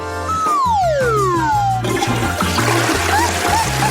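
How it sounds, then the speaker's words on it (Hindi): A blue toilet flushing in a single rushing surge of water after a sliding whistle-like tone, the gurgling swirl continuing steadily and fairly close. "तुमने इसे फ्लश क्यों किया?"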